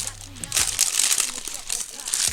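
Crinkly plastic packaging of a Lego Kylo Ren set rustles and crackles close by as it is pulled open, in short bursts.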